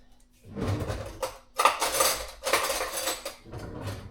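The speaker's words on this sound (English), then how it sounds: "My trick for opening these jars that I cannot open is I just shove a butter knife underneath, and then it comes unsealed" A metal butter knife pries under a sealed jar lid, making several close bursts of scraping and clinking metal with short pauses between them.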